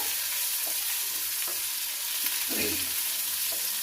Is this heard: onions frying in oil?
yes